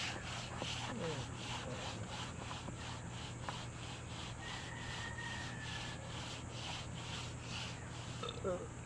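Steady, even rasping of sandpaper rubbing back and forth across a surface, continuous and fairly quiet over a low background hum.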